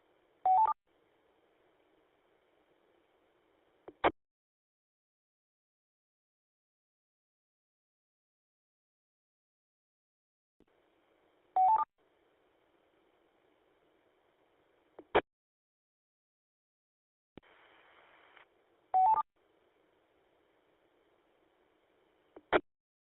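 An amateur radio station keys up several times with no voice, giving short separate bursts of tone and static with long silent gaps between them.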